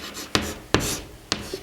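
Chalk or a marker strokes across a classroom board in three sharp, scratchy marks, each followed by a brief rubbing trail.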